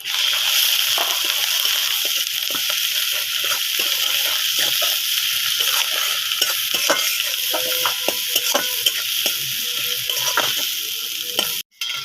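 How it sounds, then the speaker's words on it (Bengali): Masala with salt and turmeric sautés for a Bengali fish curry, a steady loud sizzle in a pan with constant stirring and scraping clatters throughout. Frying stays close and continuous, and no one speaks. "সামান্য পরিমাণে লবণ, আর সামান্য পরিমাণে হলুদ দিয়ে ভালোভাবে মশলাটাকে আমি কষাবো।"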